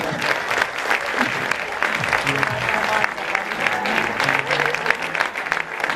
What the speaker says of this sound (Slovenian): hvala vam za obisk in za spodbudne aplavze